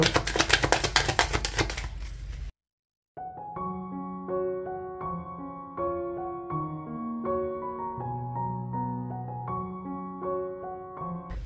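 Tarot cards riffled and handled in quick, crisp clicks for about two seconds, then a brief silence and steady tonal music carries on alone, with no voices.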